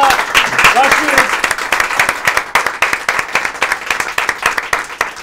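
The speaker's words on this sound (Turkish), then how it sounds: "Alkışlarımızla başlıyoruz." An audience applauds at the start of a game-show competition, with dense, steady clapping that carries on loudly throughout, a few voices and cheers faintly mixed in.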